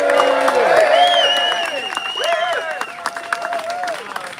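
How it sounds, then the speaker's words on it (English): A rally crowd applauds and cheers a party leader, with voices whooping over steady clapping that fades somewhat toward the end. "A round of applause to Ricardo Bosi, leader of the Australia One Party, who's come here today."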